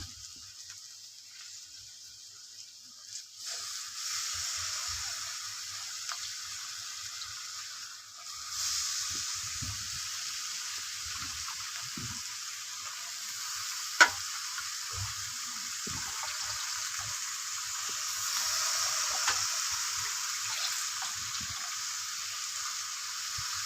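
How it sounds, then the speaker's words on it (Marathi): Chopped ridge gourd hitting a hot pan produces a faint, steady hiss that swells partway through and runs on with light clinks and scrapes, no voices. "आपण आता ही शिराळे कापलेली टाकणार आहोत"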